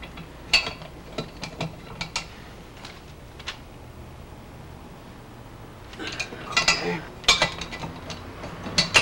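A torque wrench ratchets on a Harley-Davidson Shovelhead engine, tightened to about 20 pounds, giving close, crisp clicking bursts separated by a quiet stretch, then denser clicks toward the end.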